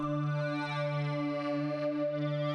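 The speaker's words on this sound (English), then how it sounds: "And then phasers, choruses, compressors, and reverb. I'm playing with the sound a lot." A sustained synth tone with rich harmonics slowly swirls and shifts, its sweeping, slightly wavering texture coloured by phaser and chorus effects, heard alone.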